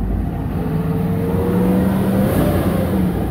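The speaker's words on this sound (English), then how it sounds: "Let's rev it up and see what this engine sounds like." A 2002 Cadillac Escalade engine revs up to about 4,000 RPM, a steady close rising drone with no talk over it.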